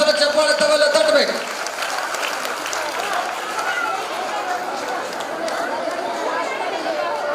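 A burst of audience clapping at a Kannada religious ceremony honouring a monastery's swamiji fades after about a second into a crowd murmur with voices talking.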